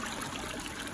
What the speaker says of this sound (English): Ooh, nice quick moving water